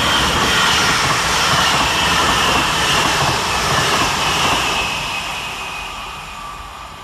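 Two Northern class 331 electric trains, 331002 and 331021, run through Moses Gate station in thick fog, a loud rushing rumble of wheels and motors that fades steadily toward the end, with no one talking.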